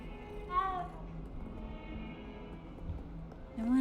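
A cat in the video game Hogwarts Legacy gives a single clear meow early on, over a low, steady game ambience with faint background sound and no purring evident.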